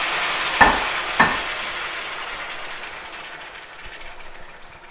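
Garlic and shrimp frying in hot oil give a steady broadband sizzle with two sharp bursts near the start, then an even hiss that fades slightly. No one speaks.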